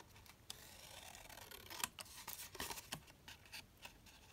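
Scissors snip through 12 x 12 paper in a quiet room, a series of short crisp cuts at an irregular pace, close and fairly soft, with no talking.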